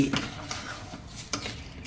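A spoon stirs a rice flour and water dough in a pot for Vinayaka Chavithi modak, giving soft scraping and sloshing strokes. A few sharper scrapes stand out against a steady background.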